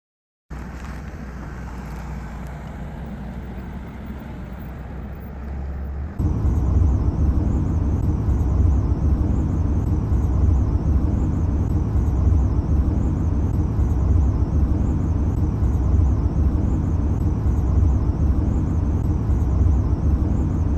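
A car drives along a road through Arizona, its steady engine and road drone heard from inside, stepping up noticeably louder after a few seconds and holding that level to the end.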